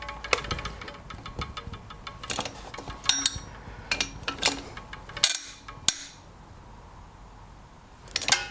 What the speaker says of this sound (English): now I'm just going to tighten these up by hand here with a ratchet